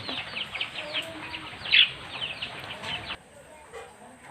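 Roosters and hens on a poultry farm, including native and black-feathered birds, cluck and call in a steady, moderately close chorus with one sharper squawk partway through, before the flock noise drops away near the end.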